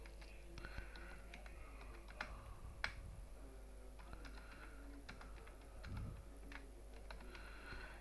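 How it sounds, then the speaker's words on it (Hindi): Numbers being typed into spreadsheet cells on a computer keyboard, scattered quiet key clicks with pauses, faint and close, with low background noise and occasional soft sounds. "इस तरह से हम अलग अलग नंबर हर सेल में टाइप करेंगे।"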